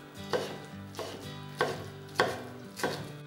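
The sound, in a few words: knife cutting boiled napa cabbage on a board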